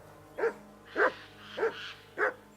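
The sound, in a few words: dog barking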